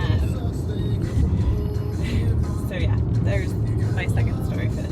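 A car drives along a road through Galt, a steady low engine and road rumble running throughout, with a person talking over it.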